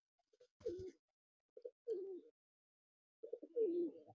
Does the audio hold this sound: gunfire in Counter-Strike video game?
no